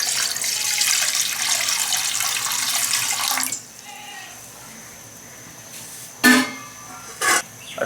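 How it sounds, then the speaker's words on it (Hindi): Water poured into a kadhai on a lit stove for dal, a steady broadband rush for about three and a half seconds, then quiet kitchen room tone with two brief sharp knocks. "कढ़ाई में हम थोड़ा सा पानी डाल देंगे।"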